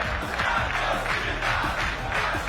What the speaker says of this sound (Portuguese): A torcida do Vasco canta o hino.